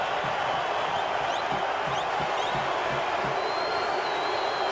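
Roaring hockey arena crowd at the Canucks vs Blackhawks Game 7 Stanley Cup playoff game in Vancouver, a dense sustained wash of cheering noise with faint rhythmic thumps beneath, no clear speech.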